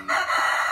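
A Tich Phat Hau Bo rooster, a Vietnamese fighting-cock type, gives a brief, close crowing call that rises sharply and holds steady for under a second.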